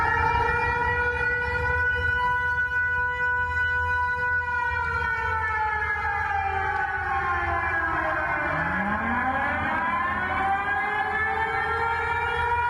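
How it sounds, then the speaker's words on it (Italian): An air raid warning siren wails steadily and loudly across the open waterfront between the Bacino di San Marco and the Napoleonic Gardens in Venice, its tone sliding and overlapping with no talk. "La sirena dell'allarme antiaereo risuona tra il bacino di San Marco e i giardini napoleonici"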